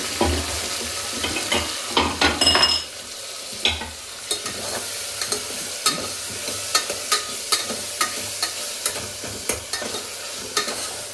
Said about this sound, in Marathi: तर आता त्याच्यात जिरं मोहरी आणि लसूण अद्रकची पेस्ट टाकली. त्याच्यानंतर टॅमॅटो आणि कांदा हे टाकलेला आहे.